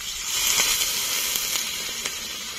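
A loud, steady hiss and sizzle as water hits a hot pan of spice masala with fried potato and pointed gourd for rohu fish curry, close and continuous without talk.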